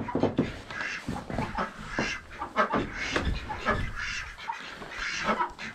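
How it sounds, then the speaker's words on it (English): Ducks in a duck coop on a snowy day, with several birds together making close, busy quacking and chattering that runs continuously with scattered louder calls. "let's get up into our duck coop here. Just have my ducks in here."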